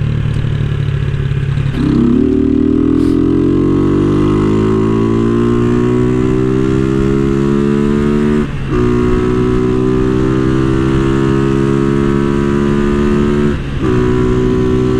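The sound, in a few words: Honda CG motorcycle engine revving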